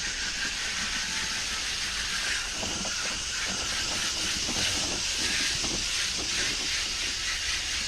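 Water spray hoses off an outdoor AC condenser coil, a steady close hiss that holds for several seconds without a break and with no talking.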